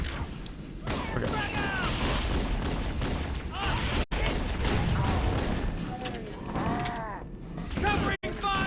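Gunfire and explosive booms in the Halo: Combat Evolved battle aboard the Pillar of Autumn, dense rapid bursts with mechanical clatter and whooshing weapon sounds, loud and continuous for several seconds.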